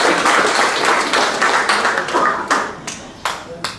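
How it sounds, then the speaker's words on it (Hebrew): An audience at a women's council New Year toast in Ra'anana claps its hands. The applause is loud and sustained, then thins into a few scattered, separate claps toward the end. "מגיע לה הרבה מחיאות כפיים."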